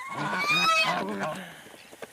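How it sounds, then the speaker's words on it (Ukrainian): On a home farm, a Muscovy duck gives a loud, harsh, honking call up close that fades into quieter scattered sounds. "Німа качечка, так і не несеться індокачка"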